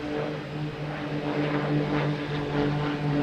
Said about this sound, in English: Got that Cape Air flying overhead here.